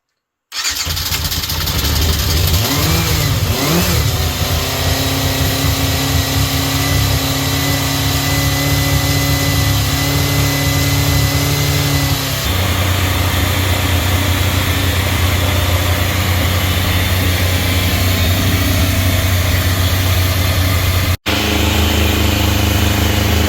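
A Yamaha FZR600 motorcycle, off the road for 20 years and with a vacuum leak, starts and settles into a loud, steady, high idle that holds close and continuous, with a brief cut near the end.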